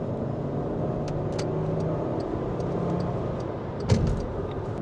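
An automatic car driven in manual mode from first gear hums and accelerates steadily with a loud, continuous engine drone and faint clicks, no voices.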